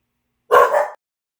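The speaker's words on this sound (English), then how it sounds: "My dogs are going crazy in here for some reason." Dogs bark indoors in one short, loud, close burst, heard alone against silence.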